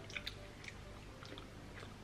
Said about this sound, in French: C'est un chewing-gum gras. Il est dur à mâcher en fait.